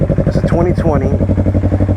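A 2020 Yamaha R3 with ABS and a full M4 Street Slayer exhaust system idles loud and close, its exhaust pulsing in a steady rapid throb while a voice talks over it partway through.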